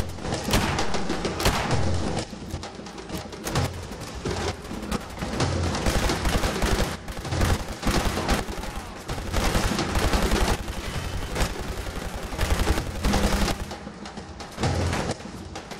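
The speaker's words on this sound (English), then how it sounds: "That gun just absolutely shreds power armor." Rapid automatic gunfire tears through power armor in a video game, loud dense bursts and heavy thuds hammering nearly continuously with brief pauses between volleys.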